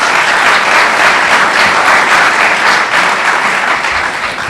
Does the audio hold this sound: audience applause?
yes